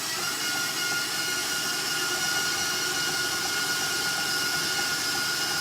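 An electric mixer blending water and flour for a sourdough starter, a loud, steady motor whine and whir running throughout without any talk.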